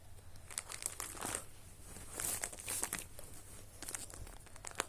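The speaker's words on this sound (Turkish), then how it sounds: "Şimdi sizlerle birlikte kart defterimi açacağız." Pages of a football card album crinkle and rustle as it is opened and leafed through, soft close plastic-and-paper crinkling in irregular bursts, quiet with no talk.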